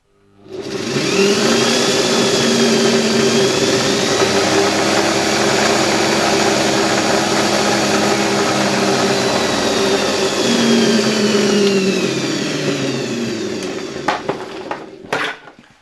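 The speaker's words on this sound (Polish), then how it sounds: "Silnik chodzi bardzo głośno, tutaj mocno iskrzą szczotki" An old Soviet vacuum cleaner motor, an AP-600 type AWP-4 with heavily sparking brushes, whines loudly and steadily, rising in pitch as it spins up, then winding down with a few clicks at the end.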